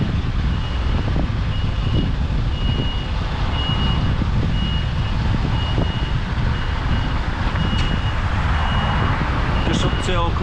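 A truck's reversing alarm beeps at a steady, repeating rhythm while the vehicle backs down a road, heard over constant engine rumble and road noise, with a brief vehicle pass near the end.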